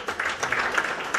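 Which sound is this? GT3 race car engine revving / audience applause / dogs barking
audience applause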